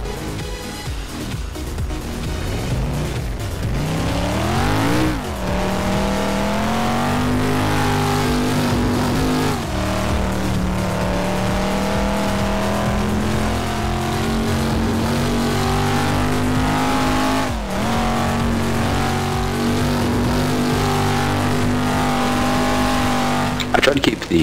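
A Dodge Challenger in Gmod's ACF mod revs hard, its engine note climbing and then holding a steady loud drone through shifts. It stays close and continuous, with brief dips at gear changes and a voice talking over it.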